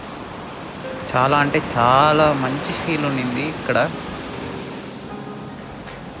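Sea waves wash steadily at night on Mahabalipuram beach, a broad, even rush of surf heard alongside a person talking in the foreground.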